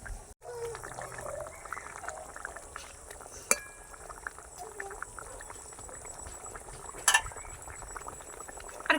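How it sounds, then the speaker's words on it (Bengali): Egg curry gravy bubbling in a pan, a low continuous simmer with a few sharp clinks of utensils against the pan. "রান্নাটা প্রায় হয়ে এসছে, ফুটছে"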